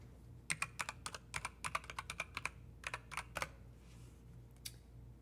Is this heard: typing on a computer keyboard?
yes